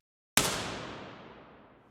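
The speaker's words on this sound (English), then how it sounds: "Normally, you would load up an impulse response that sounds like this" After a moment of silence, a single sharp broadband burst blooms into a smooth, dense reverb tail that slowly fades away, heard alone.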